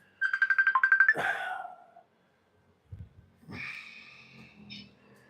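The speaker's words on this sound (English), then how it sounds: "There's a phone ringing." A phone rings in a rapid trilling burst, then a voice reacts after a pause; the ringing does not repeat.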